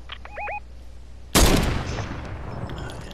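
A single loud, sharp sniper rifle shot in Fortnite, close and booming with a long decaying tail, preceded by a few short chirpy game tones.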